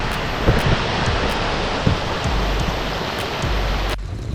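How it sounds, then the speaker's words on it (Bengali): Stream water rushes under a small bridge on a trekking route to Buxa Fort, a steady loud broadband roar with faint knocks, cutting off abruptly near the end. "এখানে ছোট একটা ব্রিজ এই দিকটা থেকে জল আসতেছে"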